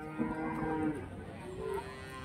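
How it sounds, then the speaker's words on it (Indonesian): Cattle at a livestock market, likely Simmental cows and young bulls, give a long, loud moo that falls in pitch, followed by a second, softer lowing call against a busy market background. "Ini pun juga ada sapi toro juga."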